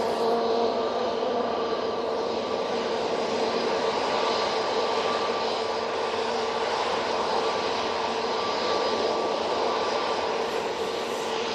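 A Ryanair jet departs Manchester Airport bound for Dublin, giving a steady, broad engine roar that holds at an even level throughout with no voices.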